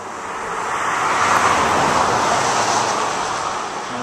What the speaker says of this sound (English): On the side of the Trans-Canada, so you can hear traffic going by.